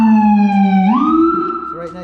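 A Whelen Core police siren sounds its wail tone up close and loud, one sustained rising sweep that climbs and holds a high pitch, heavy harmonics ringing with no talk over it.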